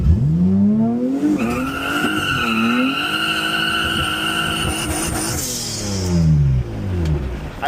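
A turbo V6 Honda Civic launches in second gear at a drag strip. Its tires squeal loudly and continuously under rising, wavering engine tones close by.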